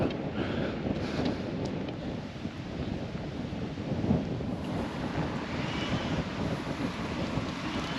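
Strong wind buffets the microphone beside Campbeltown Loch, a steady loud roar with gusting swells and low rumble throughout, no talking.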